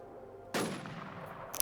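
A single loud gunshot cracks out in the SWS video game, followed by a fading tail and a smaller crack at the end.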